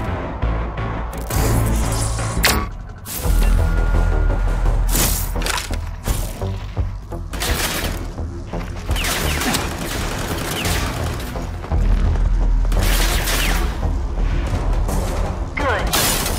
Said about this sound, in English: To protect yourself against simulated enemy fire.